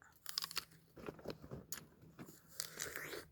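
Someone bites into a crunchy wild apple picked up from the ground, producing several crisp, close crunches and chewing sounds in a quiet setting, with no talking.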